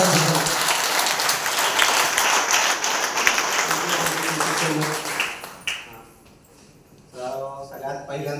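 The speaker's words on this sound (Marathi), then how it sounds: "जोरदार तालियां" Loud applause from an audience at a business event speech, dense continuous clapping that fades out after several seconds, followed by a short pause and then a voice speaking.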